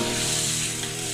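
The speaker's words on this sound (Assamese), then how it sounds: "এইখিনি এটা উতল অহালৈকে আমি ইয়াত ভাজি থাকিব লাগিব।" Onion paste frying with a little water in a pan, a continuous, close sizzle with a steady crackle and a faint low hum beneath, unbroken for the whole moment.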